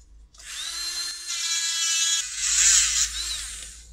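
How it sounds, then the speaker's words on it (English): A power tool whines steadily and close while grinding through an ECL82 vacuum tube, its pitch rising and wavering as it cuts, with no talking. "So I've broken through the tube"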